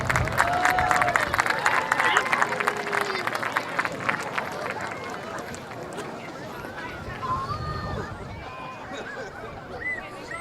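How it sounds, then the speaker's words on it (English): Crowd at an alumni football game claps and cheers, a dense roar of applause that fades into a quieter murmur and babble of voices outdoors. "Let's give a big round of applause, ladies and gentlemen."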